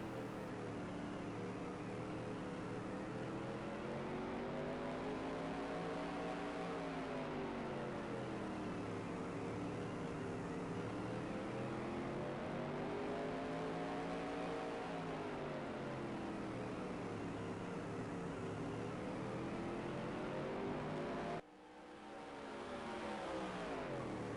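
Race cars lapping Jennertown Speedway, a continuous engine drone that swells and fades as the cars circle the oval, steady and moderately distant, with an abrupt cut near the end.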